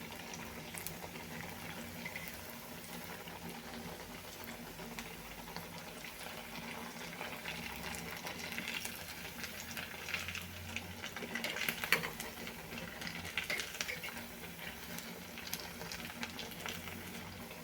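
Potato-based fasting-style medu vada fry in oil with a quiet, steady bubbling sizzle, faint and continuous, that grows slightly busier partway through.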